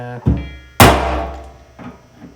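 Two or three sharp metallic strikes ring out close by as divots are punched into a VW Bus fuel tank for drilling, the loudest one leaving a brief ringing decay.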